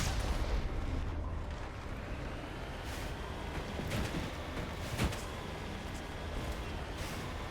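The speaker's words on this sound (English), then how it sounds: "guest cannons, basically" Cannon fire from a ship in the video game Mass Effect, a dense continuous barrage of booming blasts with sharper cracks and a heavier impact near the end, loud and steady throughout with no talk.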